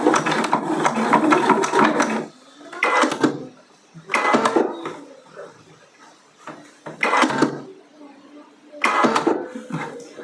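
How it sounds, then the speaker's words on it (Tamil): A sewing machine stitches fabric in several loud, close bursts of fast whirring, separated by pauses with quieter handling sounds. "ஸோ இந்த ஃபேப்ரிக்கை கரெக்டாக இதுக்கு அலைன் பண்ணி நான் ஸ்டிச் பண்ண போகிறேன்."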